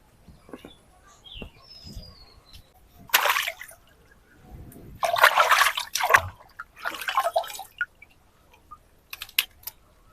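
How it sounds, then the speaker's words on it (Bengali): Freshly dug homegrown ginger is rinsed and scrubbed in pond water: irregular bursts of splashing and trickling, separated by quieter pauses with soft drips. "তবে পুকুর থেকে ভালো করে ধুয়ে পরিষ্কার করে নিব"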